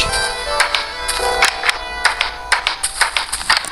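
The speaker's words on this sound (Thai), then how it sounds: "เสียงประตูเห็นไหม" A door in the Alpha version of Minecraft is opened and closed over and over, producing a quick string of sharp, close clicking knocks at an uneven, fast pace.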